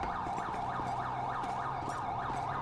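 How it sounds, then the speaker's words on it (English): A police cruiser siren in GTA V with the LSPDFR mod wails in a steady, repeating up-and-down cycle, loud and continuous from start to finish, with no talking over it. "that one cruiser just keeps driving by with his damn siren on"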